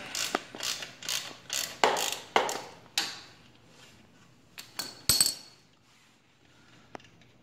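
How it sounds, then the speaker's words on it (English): A ratchet wrench clicks in quick uneven bursts while loosening a shock nut on a Honda Grom motorcycle. A few sharp metallic clanks follow, then the sound fades to sparse ticks, all close and with no talk. "Go ahead and take that nut off."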